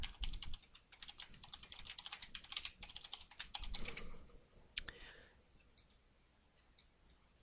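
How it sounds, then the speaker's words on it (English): Close, rapid clatter of a computer keyboard as a web address is typed, dense irregular keystrokes that thin out to a few scattered clicks toward the end, with no voice heard. "you can go ahead and type in the address"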